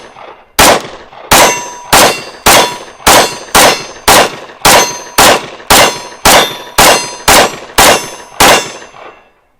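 A 10mm Springfield XDM Elite pistol with a short 3.8-inch slide and full-length grip fires a full 16-round magazine at steel, sixteen loud sharp shots in a steady rapid rhythm, each followed by a bright metallic ring from the struck target.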